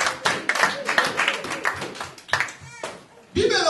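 A church congregation breaks into rhythmic applause during a sermon, a dense burst of hand claps for about three seconds with voices mixed in, then a shout rises at the end.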